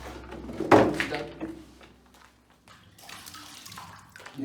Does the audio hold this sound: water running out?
yes